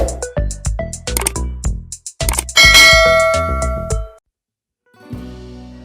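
A bell notification sound effect opens with a quick run of plucked, chiming notes, swells into a loud ringing bell tone, then fades to silence before a faint short tail.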